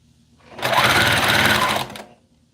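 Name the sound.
sewing machine stitching two fabric pieces together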